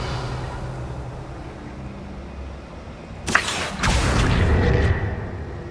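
Revelio spell cast in the game Hogwarts Legacy, a sudden bright whooshing burst over a low ambient rumble, followed by a second shimmering swell and a sustained low resonance.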